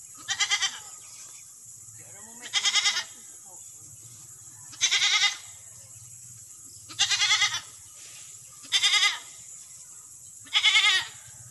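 A baby goat on a small goat farm bleats six times in loud, wavering cries at regular intervals, close by, with a low background hum between the calls.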